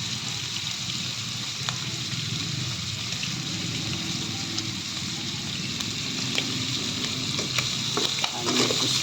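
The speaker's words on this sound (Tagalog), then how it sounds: "Lagay na rin natin ang ating sibuyas at bawang mga idol. Pagsabayin na natin." Onions and garlic sauté in a hot pan while cooking adobo with string beans, giving a steady, close sizzle with occasional stirring clicks across the whole stretch.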